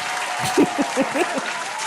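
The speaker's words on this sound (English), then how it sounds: "Go ahead, clap for him." A burst of applause with scattered claps and a few voices calling out over a broad crowd noise.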